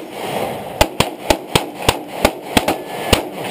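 Pistol shots ring out at a Glock shooting match: about ten sharp, loud reports fired in a quick, fairly even string, close by and without talk.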